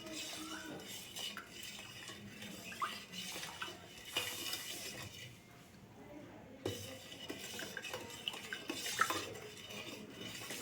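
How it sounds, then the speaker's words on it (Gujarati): A spoon stirs milk with sugar and cardamom in a pot, giving soft, continuous scraping and light metallic clinks against the pan, quiet and close, with a faint liquid swish. "સાકર એકદમ સારી રીતે દૂધમાં ઓગળી જાય ત્યાં સુધી આપણે દૂધને આ રીતે મિક્સ કરવાનું છે."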